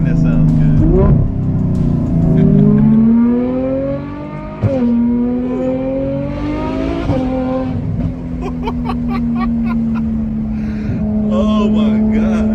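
A Ferrari F12 fitted with a Frequency Intelligence (FI) exhaust revs hard and loud, its engine note sweeping up and down through repeated rises and drops with sharp crackles, while people talk and react over it.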